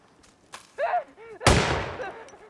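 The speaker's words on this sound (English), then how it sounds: "It's either gunshots or fireworks. Leaning towards gunshots." A sharp, loud gunshot in the video game Hitman 3 cracks and rings out into a long decaying echo, following a few short tonal blips.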